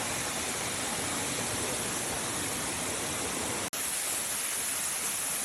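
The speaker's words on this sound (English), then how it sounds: "Water's just coming down. It's beautiful." Steady roar of a waterfall near Bogota, Colombia, heard close by as dense continuous rushing water, a brief dropout near the end, no voices.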